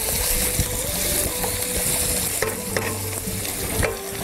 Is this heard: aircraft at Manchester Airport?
no